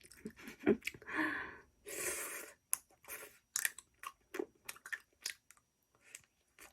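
Lip-shaped ice cream being eaten close up, with soft wet chewing, biting and crunchy squishing sounds in irregular bursts, quiet and mostly alone.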